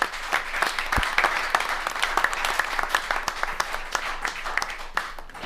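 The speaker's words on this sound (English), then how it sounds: "You want to give him a round of applause?" An audience claps for Mark, who has come up to accept an award at a Waterville, Ohio city meeting: a steady round of dense, fairly close applause lasting several seconds, with a few sharp individual claps standing out.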